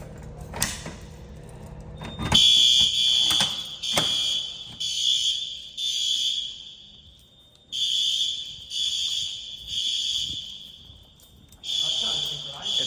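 A school fire alarm goes off after its pull station is pulled, horns blaring in synchronized pulses of about two seconds with a high ringing strobe-like tone, following a clunk of the pull; people speak briefly early on.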